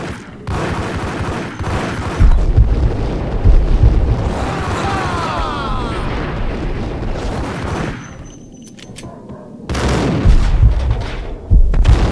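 Rapid bursts of gunfire in the shooter game Max Payne, dense volleys and booms filling most of the stretch, dropping briefly before another loud round of shots.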